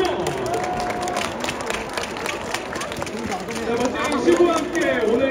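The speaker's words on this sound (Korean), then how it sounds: "뜨거운 박수 한 번을 보내주시죠!" A crowd cheers and claps inside Gocheok Sky Dome at a Kiwoom Heroes opening baseball game after a ceremonial first pitch. The roar is dense and steady and swells toward the end, with voices mixed into it.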